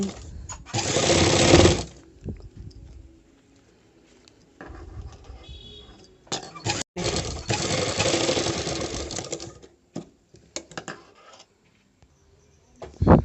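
A sewing machine stitches a blouse neck in two bursts of rapid mechanical whirring, the second longer, separated by quiet gaps with handling clicks and brief pauses.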